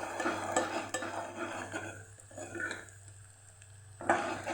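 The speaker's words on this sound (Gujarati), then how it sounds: "એને પણ આપણે ડુંગળી સાથે સાતળી લઈશું" Grated ginger and onions sautéing in a pan give a soft sizzle broken by scraping and stirring clinks of a spatula, fairly quiet with brief louder bursts at the start and end.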